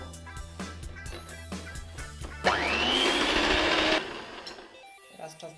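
An electric hand mixer whirs loudly for about a second and a half, beating chocolate cake batter of eggs, sugar and flour, with kitchen clatter before and after.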